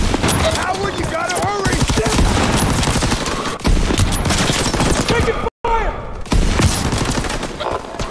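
In Call of Duty: WWII, a battle plays out with dense, rapid gunfire and incoming bullets. Sustained fusillades and machine-gun bursts fill the scene, broken by one abrupt silent gap, with voices mixed into the din.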